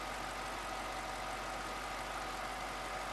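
A 2003 BMW 745i Sport with a V8, just serviced with a Mobile 1 oil change, idles very quietly and smoothly as a steady, even hum with no talking.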